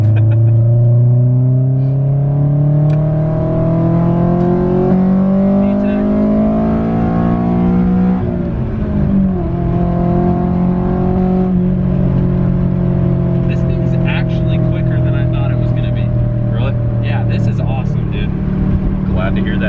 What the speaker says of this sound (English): It's a great sounding exhaust for around town, but if you are on the highway, it's a little bit loud.